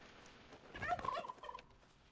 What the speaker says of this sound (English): There's a bunch of turkeys out here.